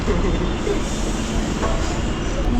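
A Chennai suburban train pulls into Saidapet railway station with a loud, steady rumble of wheels and carriages close by, while people talk over it.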